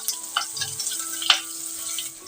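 Five crushed garlic cloves fry in a pan, a close, bright sizzle with a few sharper crackles and a soft stir, heard alone without voices.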